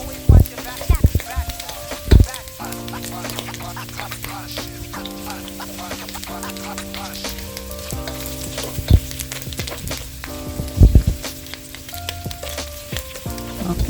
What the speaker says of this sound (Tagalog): Halu-haluin lang natin yan hanggang maging translucent yung ating sibuyas.